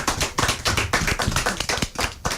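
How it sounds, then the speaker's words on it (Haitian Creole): An audience at a live studio broadcast claps together, a dense run of brisk, fairly loud hand claps filling the whole moment without talk. "On applaudit."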